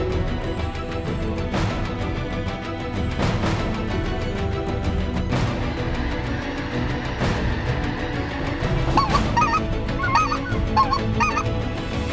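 Several specklebelly (white-fronted) geese call repeatedly, sharp honks and higher laughing yelps scattered across the clip over a steady background hum, no talking.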